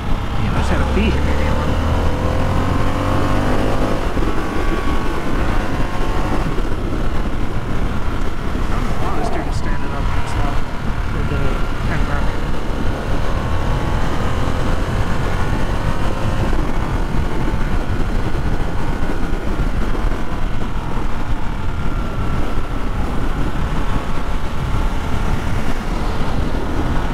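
Under heavy wind buffeting, a 2022 Harley-Davidson Sportster S motorcycle pulls along with a rough, rising engine note, as a voice talks over the ride.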